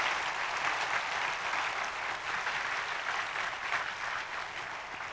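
A church congregation gives steady, continuous applause as a blessing at a missionary commissioning service, a dense wash of clapping that swells slightly and stays even throughout, with no voices heard.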